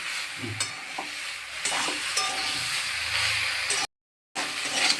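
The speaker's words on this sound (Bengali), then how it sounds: "কুলগুলো একটু ভাজা ভাজা হয়ে গেছে।" Sun-dried jujube fruit fry in a pan for pickle, giving a moderate sizzle broken by scraping stir strokes and soft knocks, with a brief dead gap before the frying resumes.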